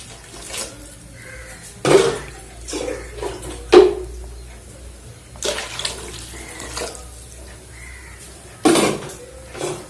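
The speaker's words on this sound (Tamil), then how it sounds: "இது கூட தேவையான அளவு தண்ணி ஊற்றிக்கலாம்." Water is poured into a cooking pot holding a paste of pepper, fennel, cumin and coconut for crab soup. Soft intermittent splashes and a few sharp clinks of the pot stand out over a quiet background.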